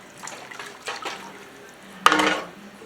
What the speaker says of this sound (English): And I'm going to keep stirring.